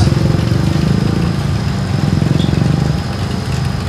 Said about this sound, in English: Looks like we got a U.S. Navy vehicle here.